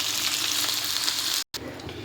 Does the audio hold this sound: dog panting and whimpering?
no